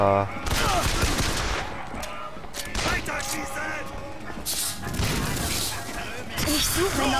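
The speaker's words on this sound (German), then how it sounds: "Weiter schießen!" Gunfire in the Bioshock Infinite video game: repeated loud shots and volleys in a chaotic firefight, with intermittent bursts across the stretch and speech mixed in among the noise.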